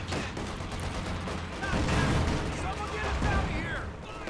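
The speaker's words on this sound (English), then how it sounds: "And I'm manning machine guns." Machine guns hammering away in Company of Heroes 2 amid a busy battlefield, with rapid bursts layered over booming artillery and explosions, loud and continuous throughout.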